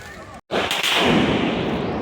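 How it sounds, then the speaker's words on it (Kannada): A Deepavali box firecracker launches rockets that burst into flowers: a sharp crack, then a loud sustained hissing rush close by. "ಒಂದು ಸಾರಿ ಹಚ್ಚಿದ್ರೆ ಒಂದು ಸಾರಿ 5 ಹೊರಗಡೆ ಬಂದು ರಾಕೆಟು ಮೇಲೆ ಹೋಗಿ ಫ್ಲವರ್ ಆಗುತ್ತೆ"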